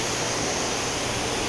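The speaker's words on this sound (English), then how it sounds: "But now we're gonna rinse it off and show you the beading performance." A ceramic coated car is rinsed off with water, a dense steady hiss of spraying water, close and loud throughout the short stretch, with no talking.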